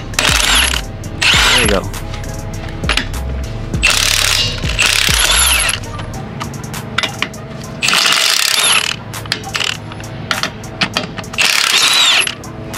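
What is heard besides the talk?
removing lug nuts from a tire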